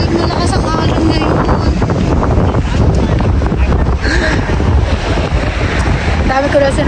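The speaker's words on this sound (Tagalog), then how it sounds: "tumatalsik yung tubig, malakas ang alon ngayon" Strong waves splash and crash against a boat nonstop, with heavy wind buffeting the microphone and a faint voice underneath.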